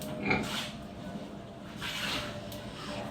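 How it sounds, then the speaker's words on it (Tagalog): Large farm pigs raised for harvest grunt and snuffle at close range, two or three short bursts over a low steady background hum, with a person speaking nearby. "yan po yung mga baboy namin papaharvest"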